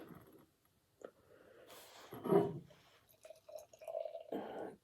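Beer poured from a can into a glass gives soft, quiet glugging and liquid splashing, close and low in level, with faint handling noise around it.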